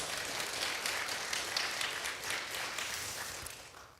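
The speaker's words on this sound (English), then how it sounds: "give yourselves a big round of applause for bringing and celebrating" A congregation gives itself a big round of applause, a dense, even patter of many hands clapping that holds steady before tapering off at the close.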